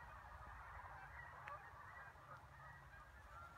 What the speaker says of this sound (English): the Canadian geese are flying